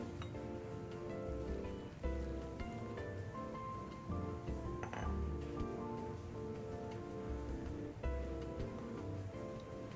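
A spoon stirs flour and water into a smooth batter in a bowl, making soft, repeated wet swishes and light clinks against the bowl's side, close and quiet with no speech.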